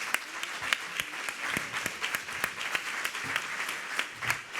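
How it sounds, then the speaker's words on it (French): At a French entrepreneurship trade show, the crowd applauds partners, exhibitors and speakers; many hands clap together in a steady patter, with distinct sharp individual claps standing out throughout, moderately close and without talk. "J'aimerais que vous puissiez les applaudir, s'il vous plaît."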